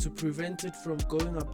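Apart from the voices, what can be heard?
No distinct noise like a dog, phone or traffic.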